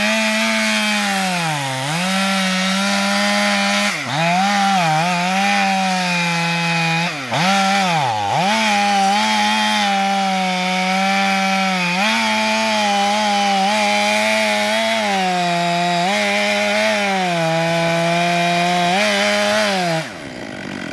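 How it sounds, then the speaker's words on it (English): A chainsaw bores deep into a large tree trunk, its engine snarling loud and close for about twenty seconds and dipping in pitch several times as the bar bites harder, then recovering. Nobody speaks. "I'm gonna go right in, bury the saw nice and far in, go all the way back so I have a little bit of back strap."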